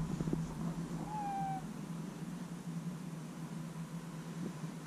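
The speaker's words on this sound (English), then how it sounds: "This is my ragdoll cat, Prince." A ragdoll cat meows once, a short rising call, in a quiet room with a steady low background hum.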